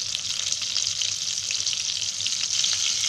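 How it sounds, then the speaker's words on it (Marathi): Chicken keema cutlets with Schezwan flavouring fry in hot oil in a pan over high heat, giving a steady, close, even sizzle that holds through without pause. "आता मी असे त्याच्यात वडे करून सोडले आहे आणि आता गॅस फास्ट केला आहे."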